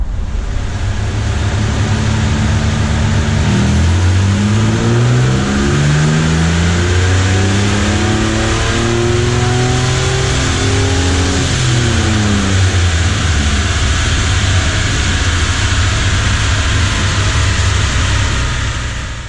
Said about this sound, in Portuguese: a gente vai aí no dinamômetro ver o que a gente consegue tirar aí de potência